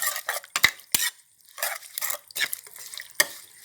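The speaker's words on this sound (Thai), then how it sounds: "ใส่ลงไปแล้วก็ คนทุกอย่างให้เข้ากัน" Liver salad being stirred in a bowl with a spoon, mixing toasted chili, fish sauce, lime, culantro and shallots; close scraping and clinking strokes in irregular bursts with short pauses, no voices.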